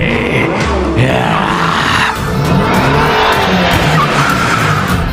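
Animated cartoon cars skid and race in from every side, a loud continuous wash of tire squeals and revving engines with shrieking overtones, no talk.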